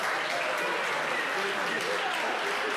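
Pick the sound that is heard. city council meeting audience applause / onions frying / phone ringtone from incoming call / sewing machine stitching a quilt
city council meeting audience applause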